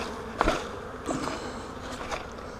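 Honey bees buzz as they are shaken from a frame into a hive, a low droning hum under knocks and rustles, with a brief loud thump early on.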